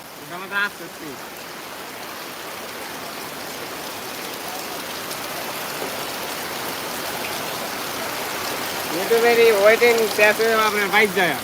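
Heavy rain pours steadily across the open Gabtoli cattle market, a dense even hiss throughout, with a voice briefly at the start and nearby talk near the end.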